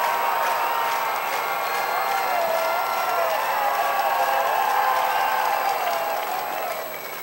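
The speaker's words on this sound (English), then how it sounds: "Crowd getting into it." Stadium crowd at a Winnipeg Goldeyes minor-league baseball game against the Gary SouthShore RailCats, a steady broad roar of cheering and clapping that holds loud and even before easing slightly at the end, with a faint voice mixed in.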